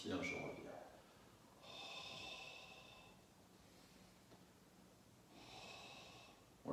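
Slow, audible breaths during a Pilates stretching exercise, a long airy exhale followed by a pause and another drawn-out breath, close and fairly quiet, with a brief voice at the start.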